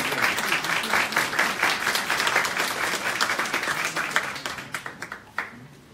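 Audience applauding at a press conference exposing alleged corruption by a university president, with students gathered; steady dense clapping that thins into scattered claps toward the end.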